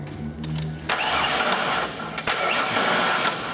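A 1997 Ford Ranger engine cranks on a weak, dying battery, the starter grinding steadily for a few seconds with brief surges before fading, loud and close with no voices.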